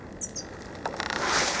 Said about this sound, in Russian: Воробей летает, откликается.